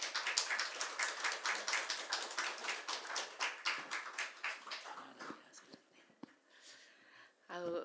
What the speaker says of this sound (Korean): 감사의 박수 올려드리도록 하겠습니다